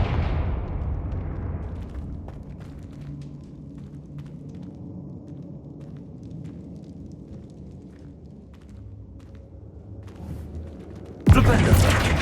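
A Confringo blasting spell in Hogwarts Legacy detonates with a deep, loud explosion at the start that rumbles and decays over several seconds, followed by a sharp second burst near the end.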